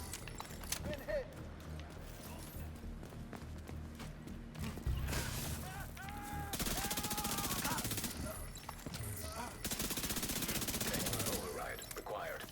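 Bursts of rapid gunfire in The Division 2 on Xbox, loud and repeated in clusters, with game voice callouts and other effects mixed in.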